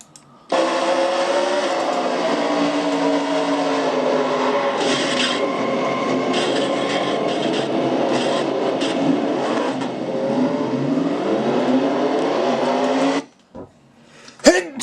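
Onboard sound from a Castrol GTX Cup Series race car at the Air Guard 400: a loud, sustained engine drone with rising and falling pitch, running nearly nonstop before ending abruptly.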